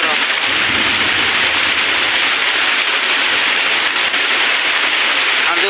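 Pouring rain hammers down near the listener in a loud, continuous roar during a storm with lightning around, steady and unchanging across the clip.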